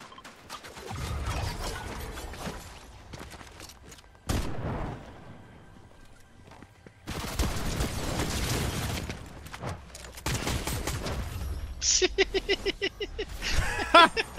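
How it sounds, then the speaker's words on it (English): Bombs and gunfire in Fortnite duos, with heavy booming blasts arriving in separate loud bursts between quieter gaps, then a fast string of sharp rapid shots near the end, close and intense. "I started raining bombs on the roofs"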